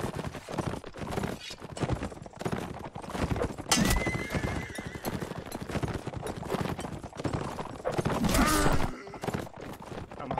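Horse hooves clip-clop amid a Mount & Blade: Warband medieval battle, with a horse whinnying partway through and dense combat noise layered throughout, loud and continuous.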